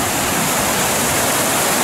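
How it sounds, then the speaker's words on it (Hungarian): River rapids at the meeting point of two Alpine rivers beneath a motorway produce a loud, steady, unbroken roar of rushing water, heard close and alone with no voices. "És itt a zuhatag."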